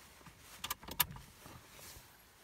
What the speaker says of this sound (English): Turn on ignition now